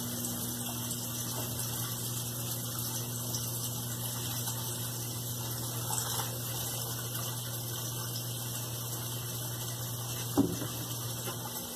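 A Colormaq LCA11 washing machine runs with water inside, foam behind the drum, giving a steady pump-like hum and sloshing wash sounds, with a sharp knock near the end.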